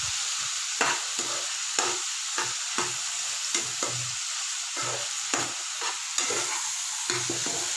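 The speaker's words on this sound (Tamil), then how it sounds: "புளியும் போட்டு வதக்கிடுங்க" Peanut chutney ingredients with tamarind sizzle in a hot pan while a spoon stirs them, producing a steady frying hiss broken by regular scraping strokes, close and moderately loud.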